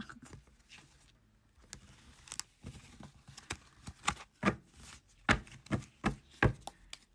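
Playing cards are shuffled by hand in a quiet room: scattered soft taps and flicks that grow denser and louder toward the end, with no talking.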